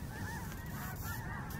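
Geese honk repeatedly, close and clear, with overlapping calls and no voices, outdoors at a rocket launch viewing spot 1.7 miles from the pad.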